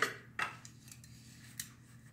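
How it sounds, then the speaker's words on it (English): Metal cutlery clinks and scrapes as it is washed with a kitchen glove, a few sharp clatters followed by soft rubbing, close and fairly quiet. "I'm going to keep washing my cutlery."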